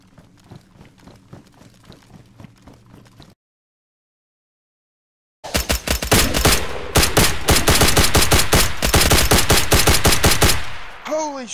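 Video game gunfire erupts during a DayZ stairwell fight: after a quieter stretch of faint repeated shots and a brief silence, loud close bursts of rapid fire hammer out in a fast, regular rhythm for several seconds.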